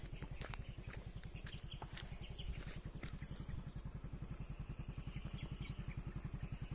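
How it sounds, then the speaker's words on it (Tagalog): Borrowed motorcycle bumping along an uneven dirt road toward North Siargao, a faint, rapid, even engine thump with rattles and clatter over steady hiss. "Dapat pang off-road pala yung hiniram natin motor."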